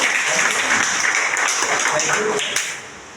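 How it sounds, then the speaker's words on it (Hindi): Seminar audience at a Sunday AWPL company event bursts into loud, dense applause from many people, steady for most of the stretch before fading toward the end. "आप अपने लिए एक बार जोरदार तालियां बजाइए।"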